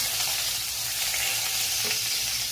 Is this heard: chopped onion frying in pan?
yes